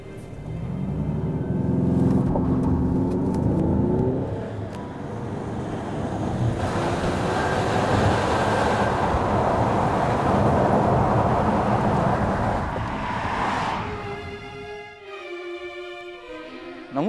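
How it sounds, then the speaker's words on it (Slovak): A Peugeot 3008 GT with the 180 hp diesel engine driving with the windows down, a broad, loud rumble of engine and rushing wind that swells and eases, with a tonal rise in engine note near the end. "A ideme vyskúšať zvuk najsilnejšej verzie 180 koňového motora."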